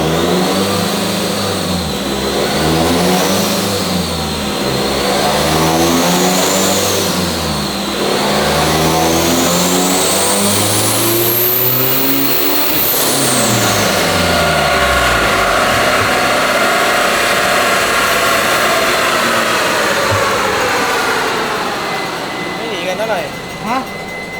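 Nissan Navara pickup engine on a dyno, revving hard through rising and falling sweeps as it climbs to a high-pitched peak, then settling back down, loud and close with voices talking over it.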